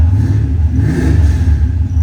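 A 1995 Ford Mustang GT V8 with a Tremec 5-speed, long tube headers and SLP exhaust revs in a deep, loud rumbling burble, close and continuous for a couple of seconds.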